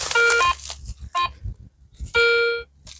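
Electronic beeps from a metal detector during an outdoor treasure hunt, with several short bursts of steady high tones and a longer sustained beep near the end, loud and close amid faint background noise.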